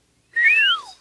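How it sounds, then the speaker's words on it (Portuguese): An animated cartoon pig whistles a single clear, loud note that swoops upward and then glides down, heard alone. "isso está parecendo um assobio."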